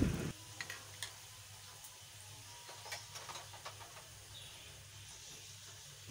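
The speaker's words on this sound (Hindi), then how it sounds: "इनको अच्छा सा कलर आने तक हमने फ्राई करना है।" Gol gappe puris frying in oil to a light golden colour, with a quiet sizzling hiss and scattered soft crackles and pops, faint and close, alone with no talking.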